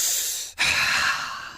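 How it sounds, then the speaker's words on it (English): A single deep breath, a broad breathy rush that breaks off briefly mid-way and resumes, close and fairly loud with no talk. "Deep breathing."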